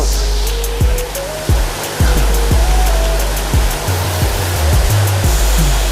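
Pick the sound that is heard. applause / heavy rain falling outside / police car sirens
heavy rain falling outside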